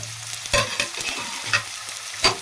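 Onion drops into hot oil already browning garlic, cumin and mustard seeds, sizzling steadily while a utensil scrapes and stirs in a few distinct louder strokes.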